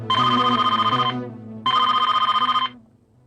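A telephone rings in a domestic scene, two long electric bell bursts separated by a short pause, clear and fairly close with no talk over it.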